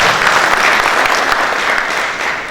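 A business talk audience breaks into loud, sustained applause, a dense and even roar of many hands clapping close by that holds steady and dips only slightly near the end, with no voices.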